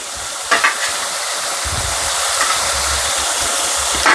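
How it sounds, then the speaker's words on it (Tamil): Ginger garlic paste stirred into chicken frying in a pan for masala chicken: a steady loud sizzle with scraping spoon strokes and clinks throughout. "இந்த சிக்கனில் வந்து இப்போ நம்ம இஞ்சி பூண்டு பேஸ்ட்டும் சேர்த்துருவோம்"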